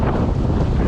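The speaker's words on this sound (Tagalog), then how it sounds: "May hangin, malakas ang hangin." Strong wind buffets the microphone at sea from a fishing boat, a steady broadband roar with no pauses that fills the whole short moment.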